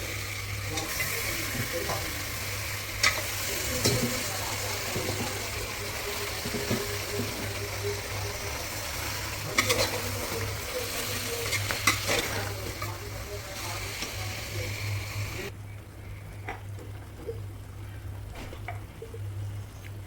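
Mutton pieces frying and being stirred in a pan for a jackfruit seed mutton curry, a steady close sizzle with occasional scraping stir strokes, fading somewhat quieter near the end.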